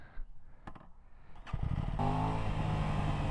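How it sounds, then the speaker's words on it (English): A stock-exhaust motorcycle engine idling unevenly, then settling into a steady, throaty low hum that grows fuller and louder after a couple of seconds, close by with no talking. "for a stock exhaust, this baby purrs"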